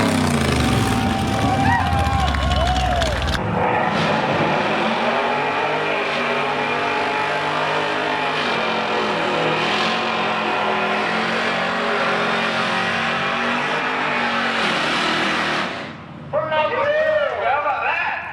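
A Dodge Hellcat drag car on street tires accelerating hard at a street drag event, a loud roaring engine that sweeps up through the gears for about twelve seconds before cutting off, with a voice talking at the start and end.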